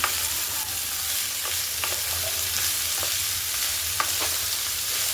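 Potato and beetroot fry in oil while being stirred, a constant close sizzle broken by a few soft scraping strokes of the spoon against the pan.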